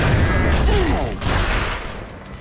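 Dense gunfire in Gears of War's original co-op campaign on insane difficulty, a continuous fusillade of rapid shots and booms that stays loud through the whole moment.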